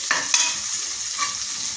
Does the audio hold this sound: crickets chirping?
no